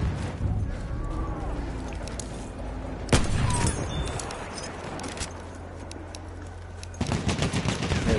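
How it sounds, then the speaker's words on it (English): Sniper shots ring out in a PS4 online shooter, with sharp loud cracks near the middle and end of the clip over busy battle noise and a continuous hum, and players talk between the shots. "We're getting sniped."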